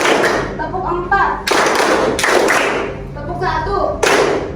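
A group plays a clapping game, bursts of loud hand claps in counted patterns, a single clap and then multi-clap runs, separated by gaps in which a leader speaks.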